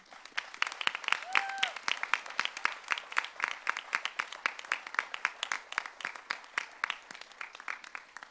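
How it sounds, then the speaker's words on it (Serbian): Audience applause at an award ceremony for traditional singing, a steady dense clapping from a crowd with sharp individual claps throughout, sustained and moderately loud, with a brief whistle-like tone near the start. "molim vas veliki aplauz Porić Jurić zbog toga."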